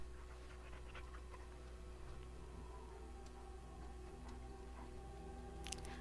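A dog companion in Dragon Age: Origins pants steadily and softly, a faint rhythmic breathing under quiet game ambience with a few small ticks.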